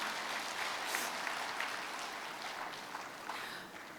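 An audience at an elementary school's 100th-anniversary ceremony gives a sustained round of applause for senior alumni, a thick, even wash of clapping that holds steady throughout and tapers a little near the end.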